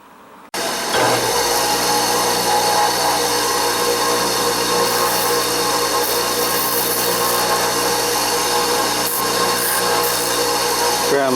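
A metal part for an Elna Supermatic sewing machine's rubber pulley is ground down with a power grinder, a loud, steady, harsh whir that starts suddenly and runs continuously close by.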